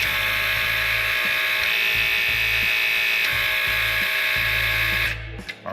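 Hydraulic pump for a bolting job running at maximum pressure, a loud steady motor whine with a rhythmic pulsing undertone, then abruptly cut off as the pressure is released near the end.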